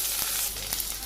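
Chopped onions and green chillies with cumin seeds frying in hot oil in a pan, a dense continuous sizzle with a few soft stirring taps, loud and close, no voices.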